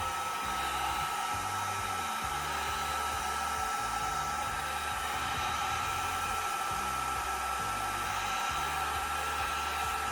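A hair dryer drying alcohol ink runs with a loud, steady, unbroken whir from start to finish.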